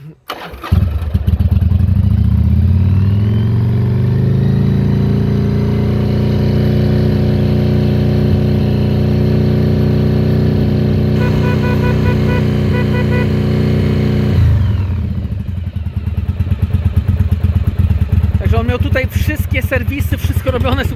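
A 1996 Yamaha XV 750 Virago motorcycle engine cranks and fires, settles into a steady rumbling idle, then changes pitch as it revs near the end; no talking.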